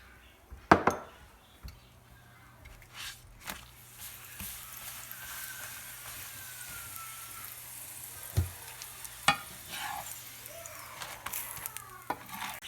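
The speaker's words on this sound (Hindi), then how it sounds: "अब हम इसके ऊपर थोड़ा थोड़ा ऑयल लगा लेंगे। ये थोड़ा थोड़ा हमने पकाना है" A paratha cooks in oil on a tawa griddle, giving a quiet, steady sizzle broken by occasional clinks and scrapes of a utensil against the pan.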